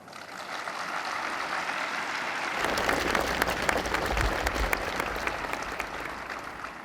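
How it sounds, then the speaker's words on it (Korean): Large crowd applauds at a Korean Police Day anniversary ceremony, clapping swelling after a quiet start into a broad, sustained roar of hands in an open venue. "뜨거운 격려의 박수를 보냅니다"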